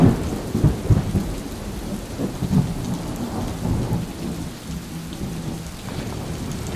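Steady rain patters down on a river (the Meenachil), in a continuous wash with low rumbling and splashing underneath, close and fairly loud throughout.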